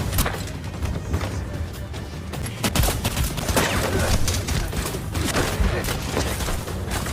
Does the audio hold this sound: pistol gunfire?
yes